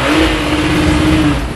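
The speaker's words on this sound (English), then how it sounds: "the blood-curdling growl of the flat six, which is something you could never get enough of" A Porsche 911 flat-six engine revs loud and close, a dense continuous roar with a steady tonal note throughout, no voices present.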